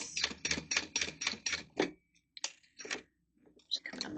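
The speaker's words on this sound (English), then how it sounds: "So I'm going to sew around all 3 sides of this." A sewing machine stitches around the sides of a small Magda Mini wristlet in a run of rapid, regular mechanical bursts. The bursts stop, and a few sparse clicks follow, all fairly close and quiet.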